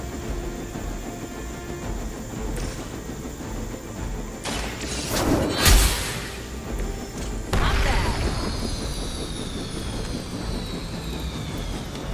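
Helicopter engine in the video game Marvel's Midnight Suns, a steady mechanical whir with high whine under game noise, broken by crashing impacts and a rising roar midway before settling back into the drone.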